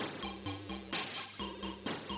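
Feud on the Amstrad, the in-game sound for picking up a plant: a repeating sequence of short, squeaky electronic tones in a quick bouncy rhythm, several pulses in about two seconds.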